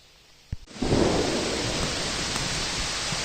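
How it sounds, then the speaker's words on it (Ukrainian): A sharp crack, then heavy rain pours down in a dense, steady roar in a Carpathian forest at nightfall, continuing loudly to the end. "а дощ прям як з відра лиє"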